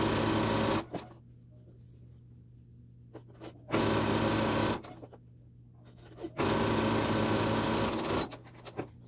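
A sewing machine stitching a piped seam runs in three loud, steady bursts, each lasting a couple of seconds, separated by short quiet pauses with faint handling noise.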